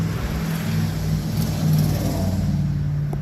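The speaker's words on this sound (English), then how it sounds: "Of course, a loud vehicle." A loud road vehicle rumbles past outdoors, its low engine drone steady and close, swelling slightly midway before easing off.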